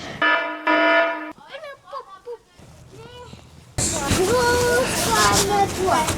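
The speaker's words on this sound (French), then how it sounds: "C'est l'alarme." A home alarm sounds on a snowy day as a loud, steady electronic tone in two short bursts. Children's voices follow, then a louder, noisy stretch with shifting tones.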